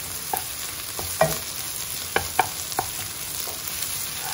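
Onion and grated garlic fry in a pan, stirred with light scraping clicks at irregular intervals over a steady sizzle and faint high hum, close up and unaccompanied by speech.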